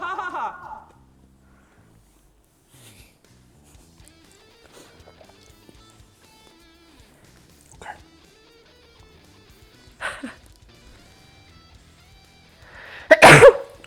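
A single sharp sneeze bursts out near the end of a mostly quiet indoor stretch, close and loud, after a few faint scattered noises and brief murmurs.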